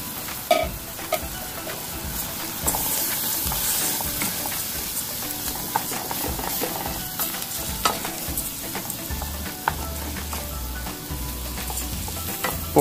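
Rice being toasted and stirred in butter with sweated onions in a pot for a sun-dried tomato risotto, giving steady close sizzling with scraping spoon strokes throughout, no voices.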